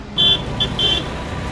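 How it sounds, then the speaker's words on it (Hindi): Heavy road traffic with trucks on the Delhi ring road, a loud steady roar of engines broken by a few short horn toots. "इसकी वजह है यहाँ पर हैवी ट्रैफिक और भारी ट्रकों की आवाजाही"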